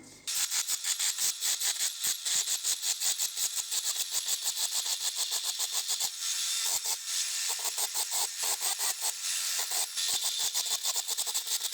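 Dremel-style rotary tool cutting into the metal of a car's rear jacking point, a loud continuous high-pitched grinding whine broken by rapid rhythmic pulses as the cutter bites, running steadily throughout with no talking.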